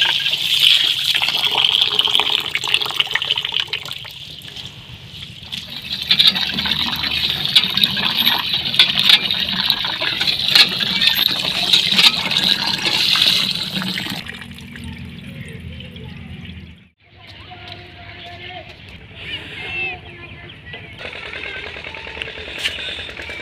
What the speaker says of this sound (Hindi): जी अब हम धो रहे हैं चावल।